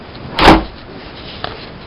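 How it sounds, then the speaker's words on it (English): A door bangs once as someone passes through building double doors with security locks, a single solid thud, then a faint latch click about a second later, with no talking. "Then get through all the double doors and security locks and all that stuff."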